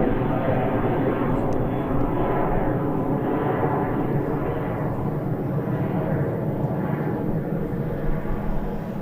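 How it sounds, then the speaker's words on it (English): A KLM airliner departing Birmingham Airport, heard as a steady, loud broadband engine roar that holds throughout with slow swelling tones, no talk over it. "the KLM departing. Back to Amsterdam."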